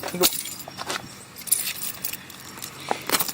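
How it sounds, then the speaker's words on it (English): Two keys for a TaoTao ATM50-A1 scooter jangle and clink close by in several short metallic bursts spread over a few seconds, with no talking. "So first, let's take a look at the keys. It came with 2 keys."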